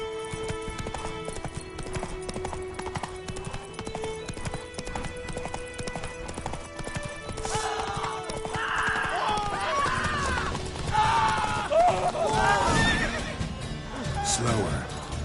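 Hooves clip-clop in a rapid galloping rhythm as a horse runs in The Witcher 3, joined by whinnying neighs and a background musical score, with speech-like game audio mixed in.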